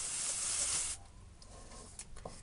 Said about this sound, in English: And I'm just spraying the outer edges of my butterfly.